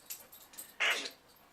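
A dog whimpers once in a short, high, breathy burst, close by in a quiet room, with faint softer sounds around it.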